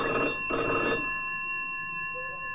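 Telephone bell rings loud and close in two short bursts, then a lingering electronic tone hums on after the rings stop, with no voices.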